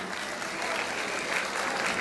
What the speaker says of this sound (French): Et c'est maintenant que vous pouvez les applaudir très très très fort